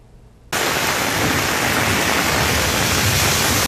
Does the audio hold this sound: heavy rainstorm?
yes